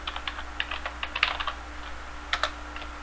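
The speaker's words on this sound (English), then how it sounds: "now we just type in the domain name" Quick, light keystrokes on a computer keyboard entering a domain name during network switch configuration, close and fairly soft, in short irregular bursts with brief pauses.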